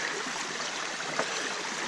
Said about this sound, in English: going to try and fill up a water container with what we call dirty water